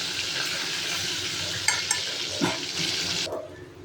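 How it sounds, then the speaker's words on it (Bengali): Pointed gourd (potol) frying in hot oil with a steady, close sizzle. Faint stirring clicks sound partway through, then the sizzle drops away abruptly near the end. "লাল লাল করে ভেজে তুলে রাখবো।"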